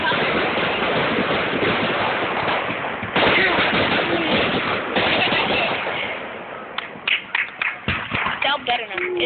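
Fireworks crackle and burst in a dense, loud barrage that gives way to a string of sharp separate pops near the end, with people talking throughout.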